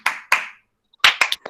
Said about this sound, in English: and click clap.